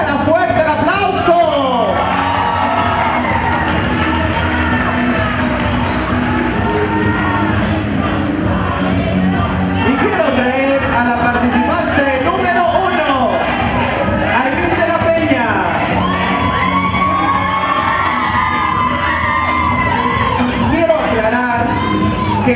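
A large audience at a 2013 modeling pageant cheers, whoops and shouts loudly for the contestants, a sustained crowd roar with scattered yells and some talk mixed in.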